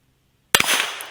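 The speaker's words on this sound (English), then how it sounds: "And we're shooting federal 40 grain ammo." A single sharp, loud gunshot from a Ruger Wrangler revolver firing Federal 40 grain ammunition, close by, after half a second of silence, with a brief ringing echo trailing off.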